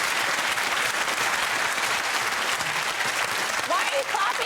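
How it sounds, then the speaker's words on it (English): A studio audience at a comedy panel show claps in a sustained, dense burst of applause, with voices talking over it near the end. "Why are you clapping"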